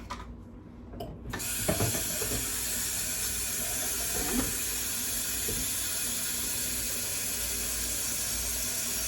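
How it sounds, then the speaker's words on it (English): Kitchen sink tap turned on and running steadily, a broad close hiss of flowing water that starts after a second of quieter handling noise and continues evenly, with a few faint knocks. "I'm just gonna get some water from the sink"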